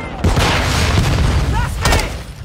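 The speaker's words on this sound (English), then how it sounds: "Throw grenade out!" A grenade blast in Call of Duty Modern Warfare II, a loud booming burst with gunfire-like crackle, followed by a second sharp impact about two seconds later amid busy game noise.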